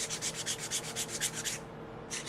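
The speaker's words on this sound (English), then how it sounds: "we're going to go ahead and switch over to our sanding bars now" Rhythmic hand sanding with sanding bars on an Iron Man Mark IV arc reactor build piece, with quick back-and-forth rasping strokes in a steady pulse, a brief pause, then the scraping starts again.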